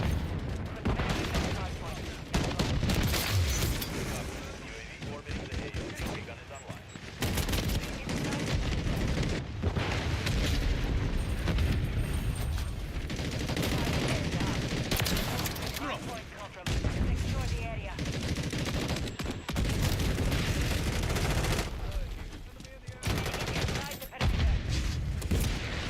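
Dense gunfire rattles through a Call of Duty match, with rapid automatic bursts and repeated shots broken by brief lulls, loud and close, while in-game voices call out now and then.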